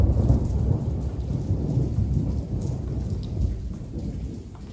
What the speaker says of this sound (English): it's raining outside. And when I did the lightning, did the thunderstorms